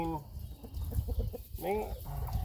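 Chickens cluck repeatedly in short, uneven bursts close by as feed is offered outdoors, with a steady low background rumble and some human voice mixed in.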